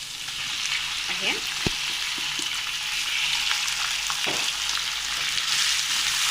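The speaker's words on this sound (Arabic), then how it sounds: "معايا كده التومه اتشوحت، هنزل بالكبده بتاعتي" Liver sizzles and fries in a pan over sautéed garlic, a steady loud hiss with a few stirring knocks, close up, and a brief word spoken once.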